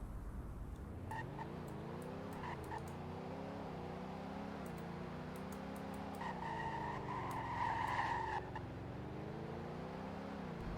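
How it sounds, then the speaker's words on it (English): Sir Rodgers Constellation car driving in the Roblox game Greenville, a low engine tone rising and falling in pitch with speed, interrupted by a few faint clicks and a brief tonal whine. "And here's what it sounds like to drive."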